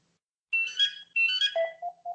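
A mobile phone ringtone plays a short repeating electronic melody, two bright bursts followed by lower beeping tones, close and clear against silence.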